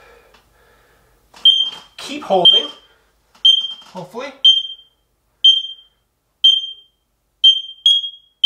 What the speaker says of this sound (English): after I think 5 seconds of this one beeping, the rest of them should start beeping.